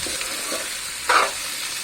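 Chopped onions half-frying in a pan for an okra (bhindi) curry, giving a steady close sizzle with a brief louder crackling burst partway through as they are stirred; no voices.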